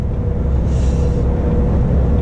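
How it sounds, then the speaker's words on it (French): A truck overtakes another lorry on an open road, heard from inside the cab as a steady loud engine rumble and road roar with a brief hiss of passing air, no talk. "Donc là il va redoubler le camion, il va me redoubler derrière."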